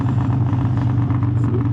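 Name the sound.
2001 Harley-Davidson Softail motorcycle engine backfire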